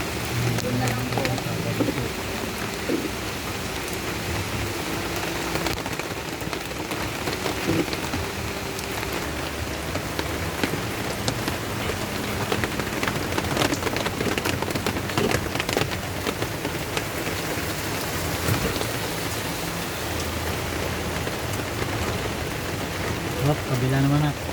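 Heavy rain pours steadily in the mountains, a dense constant hiss of water on surfaces that stays loud throughout, with voices faintly underneath.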